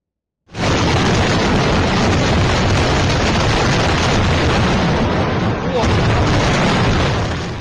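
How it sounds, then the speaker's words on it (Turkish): Explosion at a pesticide chemical factory in Yancheng, Jiangsu, China, heard in news footage as a loud, sustained roaring blast that fills the whole clip after a brief silence, with a second surge near the end. "Kimya fabrikasında patlama oldu."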